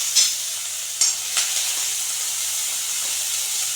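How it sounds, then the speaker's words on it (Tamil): Onions sautéing in a pan with ginger give off a steady, close sizzle and hiss, broken by a few sharp stirring scrapes near the start; no one speaks. "போட்டு எல்லாத்தையும் சேர்த்து வதக்கிக்கலாம்"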